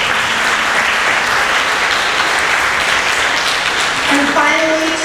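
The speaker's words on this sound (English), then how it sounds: "make sure we give your families a big round of applause" A school audience applauds at an elementary school spring concert, a dense, loud, steady wash of clapping throughout, with a voice rising near the end.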